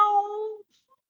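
During a yoga session, a person's voice imitates a cat with a single short, close meow lasting about half a second, followed by near silence.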